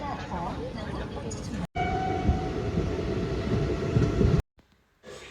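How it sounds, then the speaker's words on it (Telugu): The Tungabhadra Express runs along the rails, heard from inside an AC coach as a steady low rumble and rattle with a faint tonal whine, cut off abruptly twice. "ఫైనల్లీ ట్రైన్ అయితే మలక్పేట్ రీచ్ అయిపోయింది"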